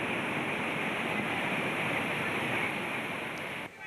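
Floodwater from heavy rain rushes over a submerged new bridge at Dobadewadi near Trimbakeshwar, a loud steady roar of churning water without pause, cutting off abruptly at the end.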